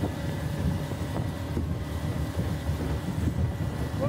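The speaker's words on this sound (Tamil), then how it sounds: "காத்து அடிக்கும் போது செமையா இருக்குது." Constant wind rumbling and buffeting against the microphone at a hill-country viewpoint in Munnar, Kerala, a low, blustery roar that stays steady throughout.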